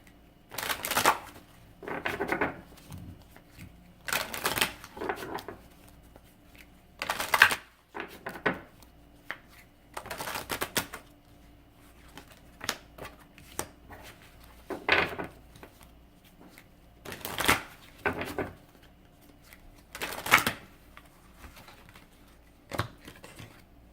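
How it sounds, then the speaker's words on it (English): Tarot cards are shuffled by hand in short, crisp riffling bursts that repeat every few seconds, close and fairly quiet, against a low room hush. "So I'm gonna shuffle the cards, I'm gonna lay them out"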